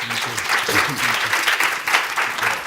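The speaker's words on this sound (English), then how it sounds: "why don't we we thank them with a round of applause as a token of our appreciation" A forum audience at a session on China and India applauds in thanks, dense and even clapping from many people that carries steadily at moderate loudness from start to end.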